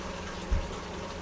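Mushrooms tipped into a pan of potatoes begin to sizzle and sauté, a steady soft frying hiss with a small clunk from the ingredients landing, and no talking.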